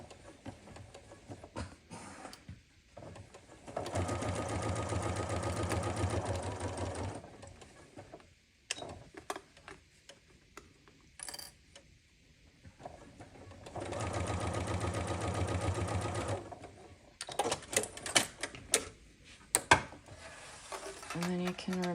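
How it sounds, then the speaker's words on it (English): A sewing machine stitches binding onto a stitch case in two sustained runs of steady mechanical whirring, close and clear, separated by quieter handling clicks. "and just sew across the line."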